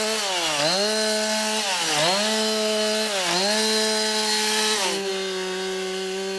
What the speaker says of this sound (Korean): 전기톱으로는 나무를 자르고